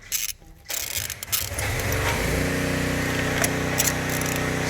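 A ratchet working a spark plug out of a 2016 Kia Soul engine. A few short clicks come first, then a steady mechanical whir, close and fairly loud, with no talk.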